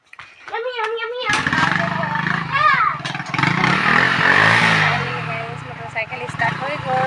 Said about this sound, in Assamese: মটৰচাইকেল ষ্টাৰ্ট হৈ গ'ল